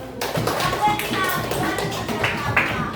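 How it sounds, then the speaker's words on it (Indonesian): Children in a classroom clap their hands together, a brief burst of quick scattered claps with young voices mixed in, moderately faint. "Oke, tepuk tangan."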